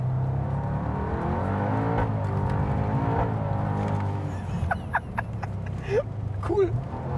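A Gemballa Panamera GTP750 slides sideways on a wet track with stability control switched off, its engine droning and revving loudly and steadily, then easing off as tyre and road noise take over; people talk inside the car.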